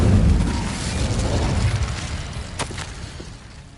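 A fire spell bursting in a Harry Potter video game, with a deep, booming blast at the start rolling into a rumble that fades over several seconds, and one sharp crack midway.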